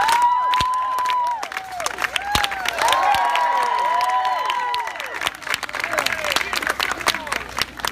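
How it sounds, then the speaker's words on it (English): A street-performance crowd at Faneuil Hall claps and cheers, with sharp individual claps, shouts and whistles rising over a lively outdoor throng and voices talking. "Can I get a slow clap?"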